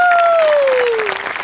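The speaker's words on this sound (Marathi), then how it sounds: "त्यांच्यासाठी टाळ्या वाजूया" Stage audience applause at a Marathi comedy show, a brief burst of clapping running under a speaking voice.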